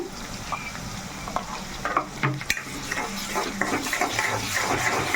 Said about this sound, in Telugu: ఈ పచ్చి మసాలా కూడా మనకి వేగాలి కాబట్టి నేను వేసేసుకున్నానండి